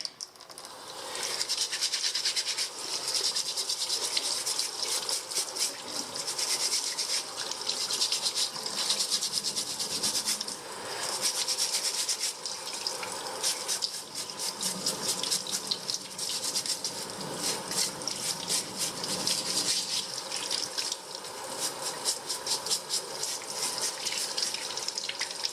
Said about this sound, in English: so now the ormers have soaked, they get another scrub,